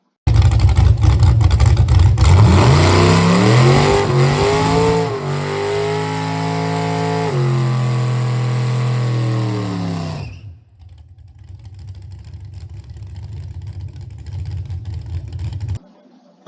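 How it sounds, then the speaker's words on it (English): A car engine fitted with a multiport intake revs hard and loud during a burnout, its pitch climbing and settling in sustained roaring stretches before cutting off abruptly, followed by a lower, rougher idle. "this is the second burnout"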